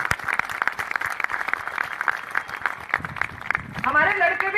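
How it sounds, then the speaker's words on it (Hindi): An audience at an International Gurjar Day event applauds for girl athletes, including an under-16 football player and gold medalist, a dense burst of clapping that fades into a voice speaking over it at the end. "बस इतनी ताली बजेंगे जी इन बच्चियों के लिए"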